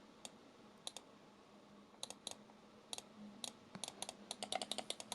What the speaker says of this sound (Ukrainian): На основних кнопках є невеликий пост-тревел, а клік просто крутий.